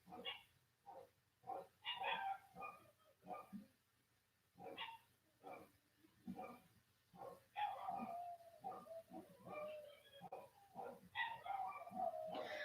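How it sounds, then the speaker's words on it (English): Dogs in a home bark and yip in quick uneven bursts, with several rapid clusters that grow busier and louder toward the end, and no voices over them. "Dogs are barking."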